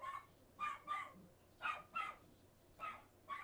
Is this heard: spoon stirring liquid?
no